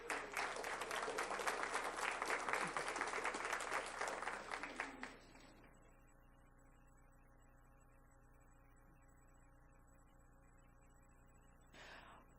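A school board meeting audience gives a loud round of applause honoring a principal and her school, steady dense clapping for about five seconds that stops abruptly, leaving a quiet room hum with a brief murmur near the end.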